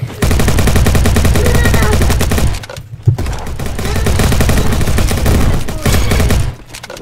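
Grenade blast and rapid gunfire from a Roblox Bad Business online shooter match, with dense, loud bursts of automatic fire and explosions filling most of the stretch, broken by two brief lulls.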